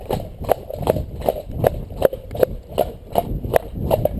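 A cob's hooves trot in a steady, even rhythm, loud and close, with about ten evenly spaced footfalls.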